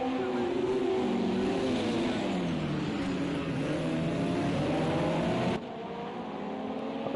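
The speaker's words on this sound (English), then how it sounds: "Cars working their way slowly through the corner there" At the Monaco start of the Mediterranean Super Prix, race cars accelerate through a corner in a dense, loud, continuous engine roar with rising and falling revs. The roar drops abruptly in level near the end.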